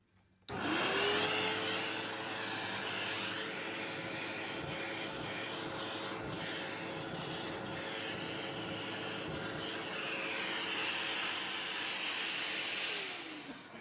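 SEBO X series vacuum cleaner with upholstery brush switching on sharply and running as a loud steady whine and hiss, the brush rubbing and shifting over a surface, then winding down at the end.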